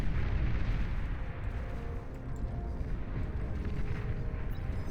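Dense, continuous battle noise from massed sharpshooter units firing in the real-time strategy game Beyond All Reason during an 8v8 deathmatch, a steady loud rumble of overlapping shots and blasts with no pauses.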